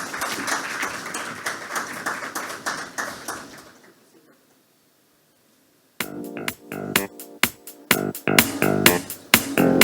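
Conference audience claps in a burst of applause, fades to a brief silence, then resumes with sharper, louder scattered claps close by.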